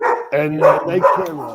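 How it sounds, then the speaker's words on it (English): A puppy barks repeatedly in quick high yips close by, overlapping a person speaking. "Sorry about the dog barking."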